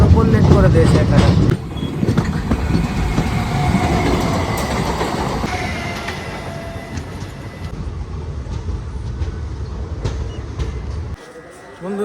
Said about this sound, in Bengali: আমাদের ট্রেন এখন এসে পৌঁছেছে ডানকুনি জংশন